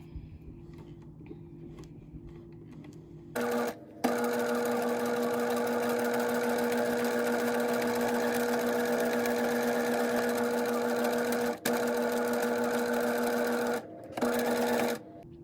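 Sewing machine stitching a medium zigzag over buttonhole twist for gathering fabric: a faint tick before a steady, fast mechanical whir runs for about ten seconds, briefly halts, then resumes in a short burst.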